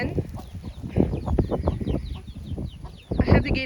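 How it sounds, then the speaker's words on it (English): Several chickens cluck and chatter close by in a chicken run in a steady, busy stream, with a louder burst of clucking near the end. "This is the chicken run, and right now I do have the gate open."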